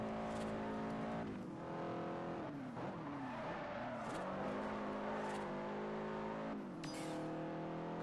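A car drifting in Forza Horizon, its engine steadily roaring with harmonic tones that bend and dip through gear and throttle changes, tire screech mixed in, loud and continuous for several seconds.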